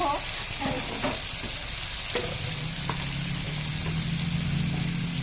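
Tomatoes fry in a pan of hot oil, spitting and crackling in a dense close sizzle, with a few stirring knocks and a low steady hum beneath, no speech.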